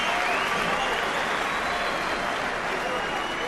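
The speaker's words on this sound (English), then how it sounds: "People standing at ringside applauding him" A big crowd at ringside on Tyneside applauds a boxer after a fight, with dense, steady clapping and crowd roar filling the space under a commentator's voice.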